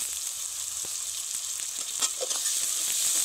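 Chopped tomato goes into a pan of frying onion and ginger-garlic paste while cooking a Sankar fish curry. A steady, close sizzle hisses throughout, with a few soft stirring knocks and a slight swell in the frying toward the end.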